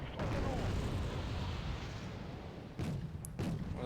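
Booming gunfire and artillery rumble continuously from a Wargame Red Dragon battle with Swedish IKV-103 assault guns and T-64 tanks, a dense loud barrage with a few sharper blasts near the end, while someone talks over it.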